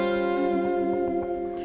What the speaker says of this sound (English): this is going to be a dominant 7 sharp 5 sharp 9